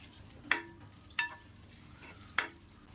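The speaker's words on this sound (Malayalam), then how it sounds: "ബീഫ് മസാലയും കൂടെ ഇട്ടിട്ട് നമുക്ക് ഇളക്കി കൊടുക്കാം" Beef biryani masala being stirred in a pan, three distinct scraping strokes of the spoon spaced about a second apart over a low, steady background.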